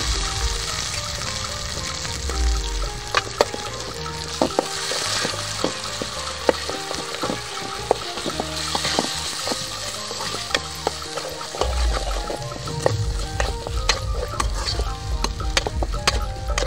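Stone-ground masala added to fried onion sizzles and crackles steadily in an oily pan for a chicken curry, with a spoon scraping and stirring through it; close and continuous, no talking.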